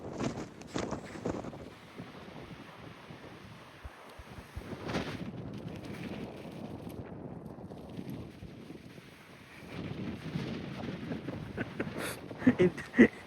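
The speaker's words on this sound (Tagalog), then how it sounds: "Lakas ng hangin mga kabers, grabe" Strong wind buffets the microphone outdoors at the Seven Sisters clifftops in England, with gusty rumbling and roaring, rising and falling throughout, with occasional faint thumps.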